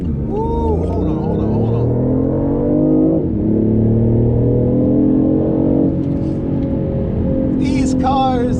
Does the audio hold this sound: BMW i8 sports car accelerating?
yes